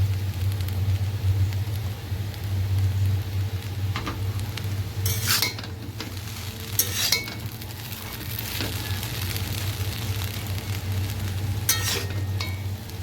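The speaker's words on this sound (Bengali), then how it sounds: "ডিম ভুজিয়াটা এবার দিয়ে দেবো।" Egg bhujia is stirred into chowmein in a pan under a low steady hum, with a soft sizzle and several sharp metallic utensil scrapes and clinks against the pan.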